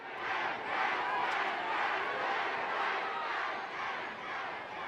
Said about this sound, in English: The crowd know he's American, listen to them.